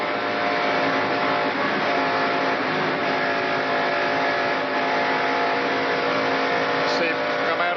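NASCAR stock cars racing at speed in the 1991 Gatorade Twin 125s qualifying races, a steady loud engine roar droning throughout under a commentator's voice.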